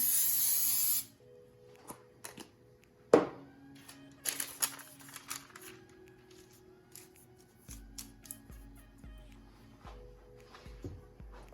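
A short burst of cooking spray hisses onto a cake pan at the start, followed by quiet clinks and rustles of handling the pan and parchment.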